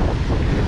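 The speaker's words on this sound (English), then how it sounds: "It's a bit windy now, you can hear." Wind buffeting the microphone on Brixham breakwater in South Devon during sea fishing, a brief steady low roar that is loud and close, with no talking.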